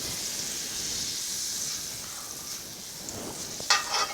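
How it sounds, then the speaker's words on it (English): Butter melting in a cast iron pan hisses with a steady, soft sizzle close by, followed near the end by a few sharper crackles and scrapes as the pan is stirred. "Let that butter get melted"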